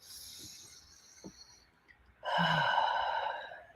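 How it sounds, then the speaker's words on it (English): A big, deep breath: a soft airy inhale followed by a long, loud, close exhale sigh, heard alone. "to sit back, to take that big, deep breath. Let's do that."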